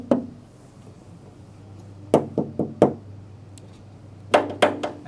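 Sharp knocks on a hard, hollow carbon fiber panel in a supercar body kit factory: a single rap, then a quick run of four, then three more, with quiet gaps between.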